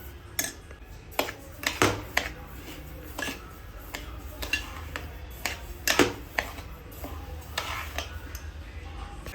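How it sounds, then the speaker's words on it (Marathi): Barnyard millet (bhagar) roasting in a pan, with frequent light scraping and clinking of a spoon stirring against metal, steady and close, alongside a faint sizzle. "इथे मी भगर भाजून घेते."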